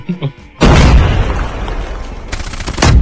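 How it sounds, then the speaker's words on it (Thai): A sudden loud boom bursts in after a short quiet moment, followed by a rumbling, crackling blast that trails off and swells again near the end, an explosion in the mobile game Call of Duty Mobile. "โอ้โหระเบิด"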